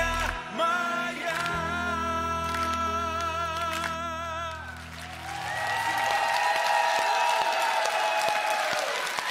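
A concert audience applauds after a song on a televised stage show, a dense, steady wash of clapping that swells in as the music's closing chords ring out and fade.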